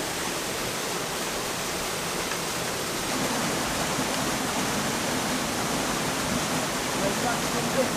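The waterfall at Puck's Glen gives an unbroken, loud, broadband rush of falling water that holds steady throughout.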